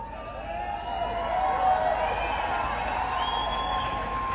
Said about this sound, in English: But just look at the crowds here.